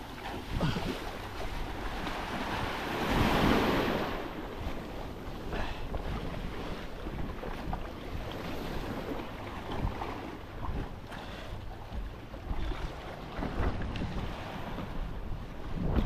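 Rough sea waves wash and surge continuously at a low, steady level, swelling briefly near the start, with a faint windy hiss over the water and no talking.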